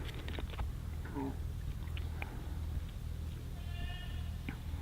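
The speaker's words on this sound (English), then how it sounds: "we just moved all our sheep and goats, so you'll hear them kind of shouting to each other across the property right now" Sheep and goats on a homestead call back and forth across the property, a few short distant bleats over a steady low background hum, with no voices.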